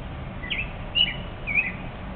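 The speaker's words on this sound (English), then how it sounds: "We both were quiet so you could hear all the bird noise" Birds chirp in a quiet residential backyard terrace on Chicago's Northwest Side, with a few short, faint tweets standing out over a low background hum.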